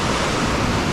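Strong water rushes steadily at an old dam, a dense, loud, unbroken roar filling the whole moment with no pauses.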